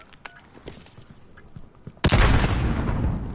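A frag grenade detonates with a sudden loud boom in a Call of Duty tournament match, its roar trailing off after a few faint earlier taps and shots.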